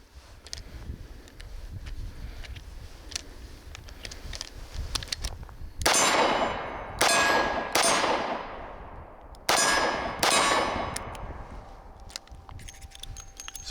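Revolver fire from a Taurus 856 Ultra-Lite and a Smith & Wesson Model 642 J-Frame at a range, five sharp loud cracks with ringing decay, spaced about a second apart, over a low background rumble.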